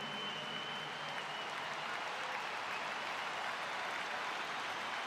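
Vast crowd of over a hundred thousand applauding at the memorial for Charlie Kirk, a steady, distant-sounding roar of clapping held evenly throughout with a faint whistle early on.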